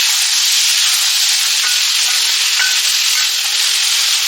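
Sliced onions with a pinch of salt fry in a pan for Kottayam-style beef dry fry, giving a loud, continuous, close sizzling hiss with no break.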